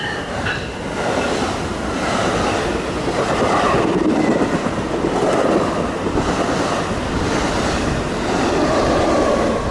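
A New Jersey Transit passenger train on the Morristown Line rumbles past up close, a steady roaring wash of wheels and rail noise that swells and holds for about ten seconds.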